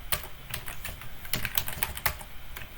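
Rapid clicking of keys on a computer keyboard, a dense run of close, crisp taps with no voice over it.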